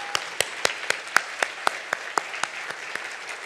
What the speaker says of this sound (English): can I have a big round of applause for all these volunteer committees that made this event